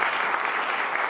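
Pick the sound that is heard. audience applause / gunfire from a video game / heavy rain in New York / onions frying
audience applause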